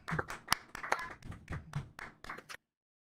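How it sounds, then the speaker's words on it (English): A few people clap in an irregular, sparse burst of sharp hand claps lasting a couple of seconds, fairly close and quiet, then silence. "Hey, let's clap."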